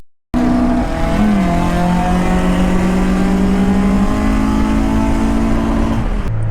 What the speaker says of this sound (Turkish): Renault ikinci viteste yani tabanca gibi fırlıyor